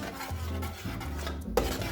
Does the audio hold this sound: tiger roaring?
no